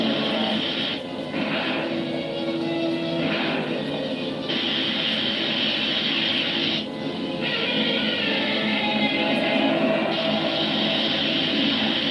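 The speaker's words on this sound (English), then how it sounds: "Here comes a plane." In the 1966 monster film Gammera the Invincible, an airplane approaches as a steady, loud engine roar that holds throughout with slight swells, with no one speaking.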